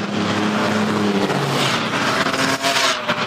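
Racing trucks roar around the track during a race, including the 88 truck, a loud, continuous, droning engine chorus with shifting pitch as trucks pass near.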